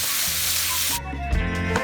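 Shrimp frying in a pan, stirred as they cook: a loud, steady sizzle that suddenly quiets to a softer crackle with a few scraping stirs, close by and with no voices.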